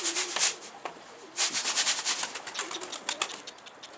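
Escaped homing pigeons landing in a loft, with sharp bursts of flapping wings and scattered soft coos, close by, with no talk.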